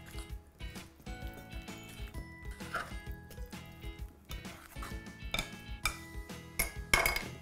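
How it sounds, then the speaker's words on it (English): A fork stirs egg, oil and milk together in a bowl for muffin batter, making quick repeated clinks and scrapes against the bowl under steady background music. "All you need to do is just stir this around with a fork."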